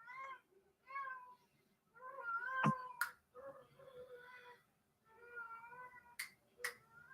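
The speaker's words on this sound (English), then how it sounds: "My cat won't stop meowing." A cat meows repeatedly and insistently, several drawn-out cries close by, with a few sharp clicks between them.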